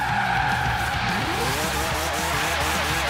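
Loud, sustained car tire squeal as a race car skids in a racing video game, with engine roar underneath and no talking.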